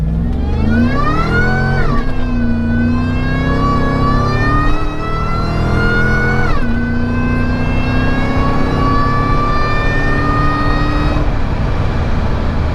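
A muscle truck accelerates hard in low gear, its engine rising in pitch through two shifts, then revving at a steady high pitch. The sound is loud and close, with no talk.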